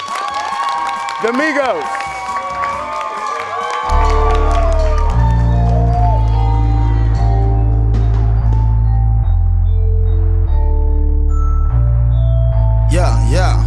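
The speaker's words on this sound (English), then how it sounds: "Please, start clapping your hands now" A crowd at a Migos hip-hop show claps and cheers loudly over an MC's voice for about four seconds before a heavy bass beat kicks in and takes over.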